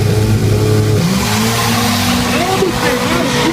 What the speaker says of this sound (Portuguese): Sobe o giro dos motores.